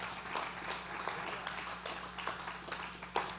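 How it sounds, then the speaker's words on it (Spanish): A church congregation claps during a sermon, a steady spatter of applause of moderate loudness that swells briefly near the end. "Dale un aplauso"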